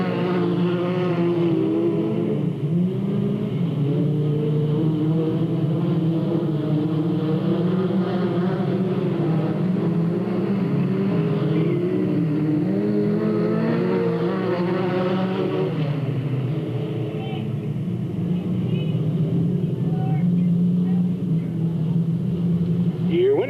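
Stock race cars circling Delta Speedway, a continuous loud engine roar with shifting pitch as the pack passes, under a race announcer's commentary.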